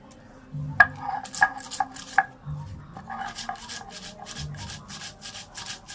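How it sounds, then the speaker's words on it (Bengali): Green chilies, poppy seeds and black mustard seeds are ground into a paste with a little water, heard as close, rhythmic rubbing strokes with a few sharp knocks between them. "এই সব কটা আমি একসাথে বেটে নেবো হালকা হালকা জল দেবো"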